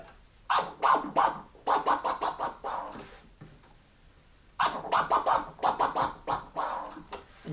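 A DJ scratches a record on a turntable, firing quick rhythmic bursts of chirping scratches in two phrases separated by a pause of soft hiss.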